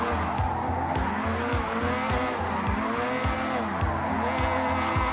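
A car drifts with the handbrake in the Forza Horizon 6 racing game, tires squealing in long repeated screeches over a steady engine roar, loud and close, with no pause.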